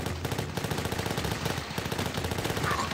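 Rapid Uzi fire rattles nonstop in the video game The Last Stand 2, a dense, steady stream of quick game gunshots at a constant loud level with no talking.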